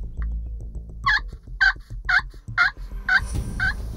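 A wild turkey gobbles repeatedly on a spring hunt in Kansas, six evenly spaced rattling gobbles that are loud and fairly close, heard over low outdoor rumble.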